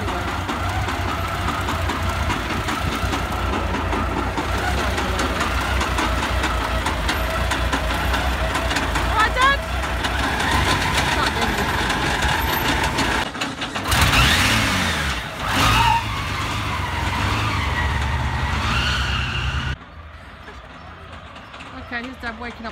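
A custom car known as The Beast runs along a narrow road, its engine rumbling steadily up close with revving swells midway, while people talk over it throughout.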